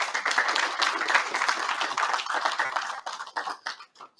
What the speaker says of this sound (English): So you can all give yourselves a round of applause.